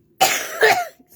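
A single close, sharp cough in two quick bursts, alone against silence.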